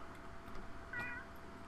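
A pet cat gives a single faint, brief meow in the background, barely rising above a steady layer of room noise.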